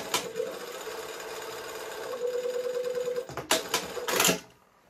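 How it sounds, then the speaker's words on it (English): Sewing machine basting two shirt-dress yoke pieces at a quarter-inch seam allowance, a steady close run of needle chatter and motor hum with a few sharp clicks near the end before it stops, no voices. "I'm going to sew just baste together those two yoke pieces at 1/4 of an inch seam allowance"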